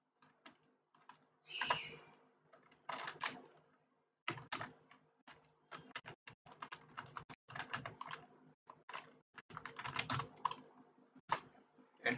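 Quick bursts of keystrokes on a computer keyboard as an address is entered in Tally Prime accounting software, close and fairly quiet, with brief pauses between runs of typing.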